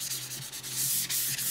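A sanding block rubs down painted metal in quick back-and-forth scratchy strokes, close and steady, with no voices.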